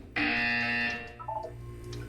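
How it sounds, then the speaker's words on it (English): Buzzer in the video game Portal 2, a single loud, sustained electronic tone lasting under a second, followed by quieter game sounds. "You will hear a buzzer. When you hear the buzzer, look up at the ceiling."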